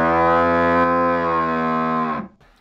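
A cow gives one long, loud, close moo that holds steady for about two seconds and then trails off into quiet.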